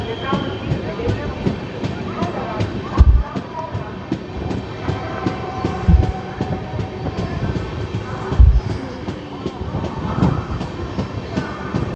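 A passing Ernakulam–Hazrat Nizamuddin express train, heard from aboard another moving train, gives a steady rolling rumble with rhythmic wheel clacks and a few heavier thumps at joints, under faint voices.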